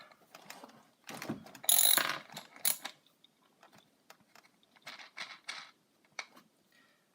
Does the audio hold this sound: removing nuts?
yes